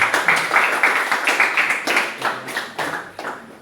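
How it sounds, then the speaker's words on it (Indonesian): An audience at a pickleball outreach session claps for Pak Rodi in a steady, moderately close burst of hand claps that keeps going for a few seconds. "Tepuk tangan dulu untuk Pak Rodi."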